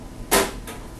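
A single brief thud-and-swish of a water distiller's small door shutting nearby, followed by a faint softer trailing noise.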